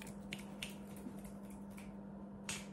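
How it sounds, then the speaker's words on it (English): Soft, sparse finger snaps, about six crisp clicks at irregular intervals, over a faint steady background hum in a quiet lo-fi ASMR setting. "Pay attention to the finger snaps."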